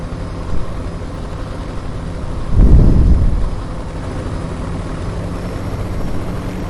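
Steady low engine drone of the M28 Hunter helicopter in flight in a first-person shooter game, loud and close, swelling into a brief heavy rumble before settling back to a constant hum.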